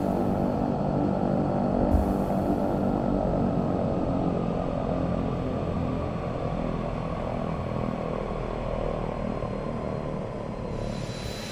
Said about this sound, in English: Listen to those engine sounds.